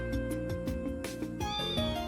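A cat named Mary meows in the game Trails into Reverie: a few short, clear meow calls rising over steady background music, with no voices.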